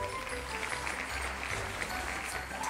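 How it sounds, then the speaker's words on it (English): An audience claps steadily for about three seconds after an indoor firework display, a moderately loud, even patter of many hands over a low background hum. "A round of applause"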